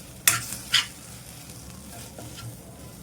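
Methi (fenugreek) bhaji with peanut powder is stirred in a pan, with two sharp scraping strokes near the start and softer sizzling, clinking stirs after, fairly close and moderately quiet with no talk.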